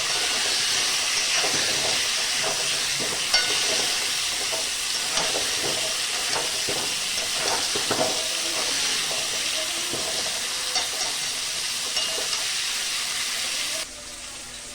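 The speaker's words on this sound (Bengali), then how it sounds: "আলুটা আমি সাইডে ভাজতে দিয়েছি।" Small potatoes frying in oil in a pan for a chicken curry, a steady broadband sizzle and hiss with scattered crackles throughout, close and alone, dropping slightly near the end.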